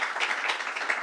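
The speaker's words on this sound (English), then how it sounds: "Annette Robinson, let's give her a round of applause." Audience applause after a speaker introduces someone at a governor's announcement, a brief steady patter of clapping from a crowd, moderately loud and without talk.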